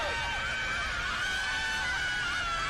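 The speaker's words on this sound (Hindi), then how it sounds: "एक तेज आवाज आई, किसी के चिल्लाने की" A person screams in a high, wavering voice, sustained and loud across the whole stretch, set within a horror story with a dense, harsh upper-register cry over low rumble.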